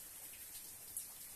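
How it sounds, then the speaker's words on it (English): Light, dense drizzle falls steadily outdoors, a faint, even hiss of fine raindrops with no voices. "just drizzling right now, but it just started up again"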